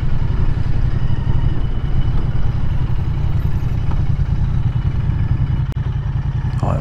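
A Royal Enfield motorcycle, a Meteor 350 or Interceptor 650, idles in neutral at a roadside stop. The engine thumps in a steady, loud, continuous rhythm close by throughout, with no speech.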